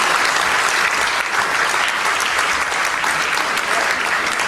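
Audience applause at an award ceremony, a dense, steady clapping from a full room that holds at an even level throughout without a break.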